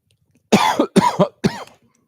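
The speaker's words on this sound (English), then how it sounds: "That's what it means when I cough." A person coughing close up, three sharp throaty coughs in quick succession, loud in an otherwise quiet room.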